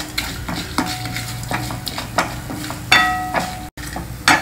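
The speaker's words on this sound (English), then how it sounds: "Fry all these spices till the dals are well browned." Chana dal and dry red chilies frying and being stirred in a Solara air fryer, with close, steady sizzling broken by repeated scraping stirs and light utensil clinks.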